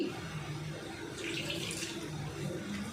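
Water runs steadily for a few seconds as it is poured into bonda batter, a continuous close splashing stream with faint background noise.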